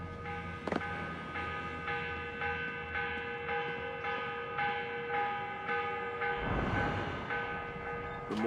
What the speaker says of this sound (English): The morning bell.